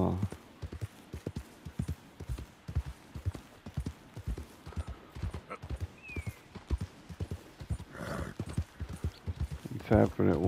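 Horse hooves pound at a gallop in the open-world game Red Dead Redemption 2, a steady rapid clip-clop rhythm that runs throughout under a speaking voice.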